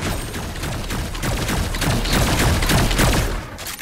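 Dense, rapid bursts of gunfire from several weapons in a Fortnite match, loud and continuous for several seconds before cutting out at the end.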